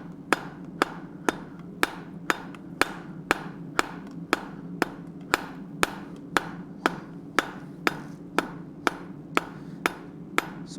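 A hammer strikes a hot steel bar being drawn into an even taper for a forged icicle, sharp ringing blows falling in a steady, evenly spaced rhythm about twice a second over a low background hum.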